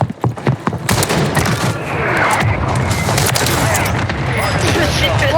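Gunfire in the Call of Duty: Warzone video game with a Lockwood 300 shotgun: rapid, loud shots in an opening burst, then a dense, continuous roar of battle noise and explosions.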